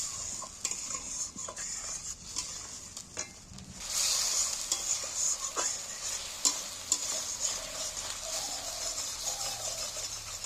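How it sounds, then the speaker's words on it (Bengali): A ginger-garlic green spice paste fries in oil in a pan for a masala omelette, with a soft, steady sizzle and repeated scraping and clinking stirring strokes, quiet and close. "মশলাটা আমার ভাজা হয়ে এসছে"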